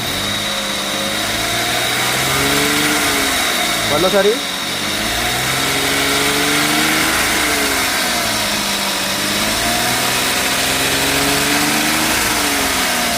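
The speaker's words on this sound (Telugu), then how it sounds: "ఒకసారి యాక్సిలేటర్ అమ్మా." Close, steady car engine with the accelerator pressed, its pitch rising and falling through several rev cycles, with a person briefly speaking over it.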